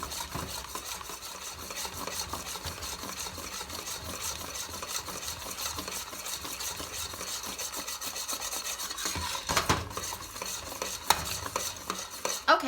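Milk chocolate fudge mixture stirred constantly in a pot on a hot burner, a steady close scraping and rasping of the spoon against the pot, continuous, with a few louder knocks near the end.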